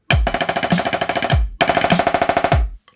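A snare drum plays a pipe-band break at a slow 100 beats per minute, opening with a roll and running into a dense rattle of rapid strokes and accented hits, performed twice in a row, loud and close with no talking.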